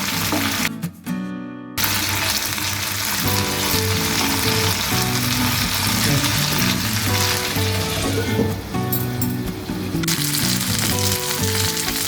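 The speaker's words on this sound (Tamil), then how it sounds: "இப்போ இந்த சைடு மூடி வச்சு நல்லா வேக எடுத்துக்கலாம்." Tandoori-marinated chicken fries on a hot tawa with a loud, continuous sizzle and spattering oil, close to the pan and unbroken apart from a brief dip near the start.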